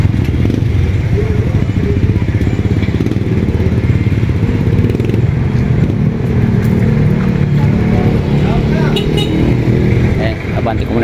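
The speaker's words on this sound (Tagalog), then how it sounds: "Abanti ko muna guys yung aking motor." A tricycle motorcycle's engine drones loud and close as it moves forward in a tricycle queue, a steady rough putter with rising revs and some rattling, while someone talks over it.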